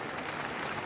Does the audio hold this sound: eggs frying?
no